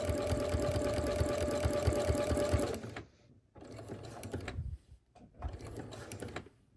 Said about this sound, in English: sew all the way down until you are 1/4 inch away from the edge right here